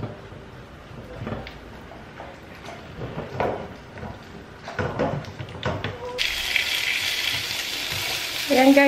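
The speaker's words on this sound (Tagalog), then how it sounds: "binigisa ko lang yung mixed veggies. Merong gisantes, corn at saka carrots, sibuyas, bawang." Mixed vegetables with peas, corn, carrots, onion and garlic sautéing in a deep pot, giving a steady close sizzle with stirring clatter and a brighter hiss surge near the end.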